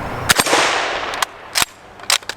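Shots from a .45 ACP British Enfield, several sharp cracks spread over a couple of seconds, including one with a short ringing tail. The shots are close and loud outdoors, with no talk.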